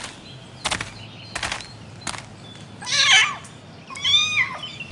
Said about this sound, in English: Listen, what's that? It's a kitten.